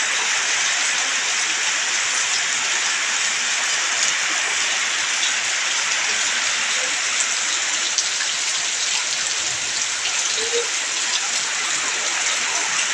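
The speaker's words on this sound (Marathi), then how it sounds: "कोकणामध्ये आता सोबत वारा पण आणि पाऊस एकत्र येतात आहे" Heavy rain pours down in the Konkan region as wind blows, a dense, loud, unbroken hiss of falling water filling the whole stretch with no talk over it.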